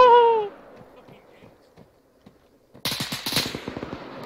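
Three rapid, sharp gunshots from a .338 caliber rifle crack close and loud after a stretch of near quiet, each report trailing into a brief echo.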